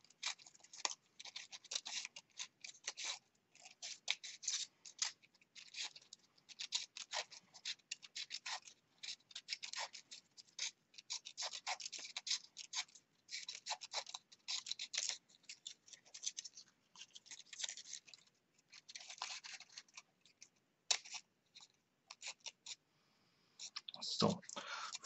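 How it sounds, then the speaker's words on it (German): Scissors cut lengthwise through a paper Möbius strip with close, crisp snipping and scratchy crackles in irregular bursts. The cutting goes on steadily and stays quiet throughout. "mache hier so einen Schnitt, dass ich reinkomme in dieses Band und schneide es dann einfach der Länge nach"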